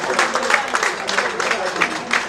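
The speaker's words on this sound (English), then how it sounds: "Can you please give a round of applause to this gentleman?" Applause at a thanksgiving day gala as a gentleman is asked to stand, a medium crowd clapping in dense, uneven bursts, fairly close, with voices faintly mixed in.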